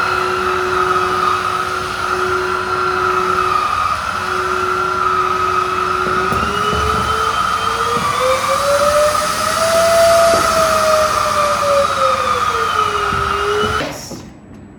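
A Tenka Ryohin Kaze K2 cordless handheld vacuum cleaner runs with a loud, steady motor whine that rises and falls in pitch partway through, then cuts off near the end, with no talk.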